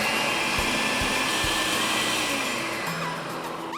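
A blender runs steadily, whirring as it purees sautéed onions with canned crushed tomatoes and heavy cream, a loud continuous motor drone that sags slightly in pitch toward the end.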